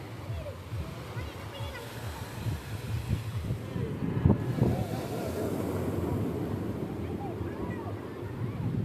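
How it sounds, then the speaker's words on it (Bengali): Sea waves break on Dagara beach in Odisha as a steady low roar, with wind buffeting the microphone throughout and a brief louder surge midway; voices may be faintly present. "খুব সুন্দর ঢেউ আসছে"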